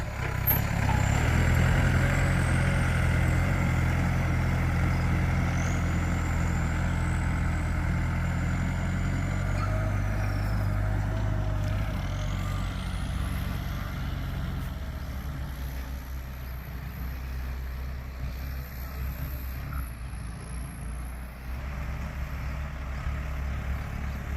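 A Yanmar YM357A tractor diesel engine idles steadily nearby, a low continuous rumble with a faint high whine drifting above it, holding an even level throughout.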